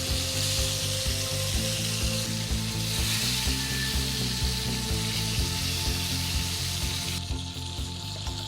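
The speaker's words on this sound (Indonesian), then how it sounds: "kita bisa goreng di minyak yang panas" Lemon slices frying in hot oil for a chicken lemon sauce, a close, steady crackling sizzle with repeated light taps and stirring knocks from a utensil throughout.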